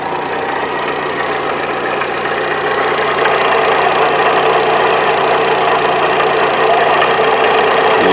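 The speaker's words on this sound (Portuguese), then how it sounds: "realmente acredito aí fortemente que é a bomba d'água que está fazendo esse barulho todo aí. Rolamento ruim da bomba." VW CrossFox engine idling with its belts removed, a steady mechanical whir and rattle from a worn water pump bearing running continuously and loudly close by, with no voices.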